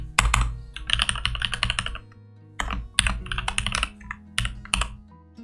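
Rapid typing on a computer keyboard while writing code, close dense bursts of key clicks broken by short pauses.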